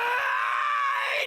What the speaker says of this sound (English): he just starts screaming